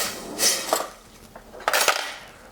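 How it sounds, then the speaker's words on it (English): Thai fish seasoning ingredients stirred in a bowl, giving several close, bright clinks and scrapes of a utensil against the dish in short bursts with pauses between. "you can just put those in a bowl. Give that a swirl,"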